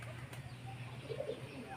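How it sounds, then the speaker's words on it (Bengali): A pigeon coos softly a couple of times against faint background hum, quiet and close, with no talking. "একটা পায়রা এলো"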